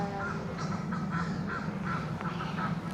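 Crows caw repeatedly in St James's Park, London, a series of harsh calls in a loose rhythm over a steady outdoor murmur of background noise.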